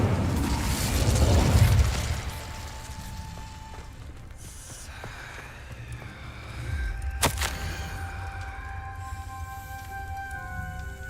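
Incendio fire spell cast in Hogwarts Legacy: a loud whooshing, crackling burst of flame in the first two seconds, then a sharp bright hit near seven seconds, over low game ambience and lingering magical tones.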